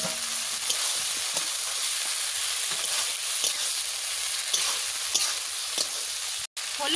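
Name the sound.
spices frying over fire for chicken curry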